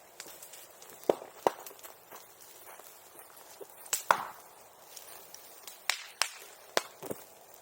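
Bamboo pops and cracks in an outdoor bonfire, sharp firecracker-like bangs going off irregularly, some close and loud, others fainter, over a quiet crackling background.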